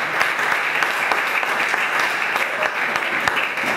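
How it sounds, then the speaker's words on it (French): Congregation at a church service applauding loudly and steadily, a dense wash of many hands clapping with a few cheers and voices mixed in, continuous throughout. "Acclamons très très fort le Seigneur."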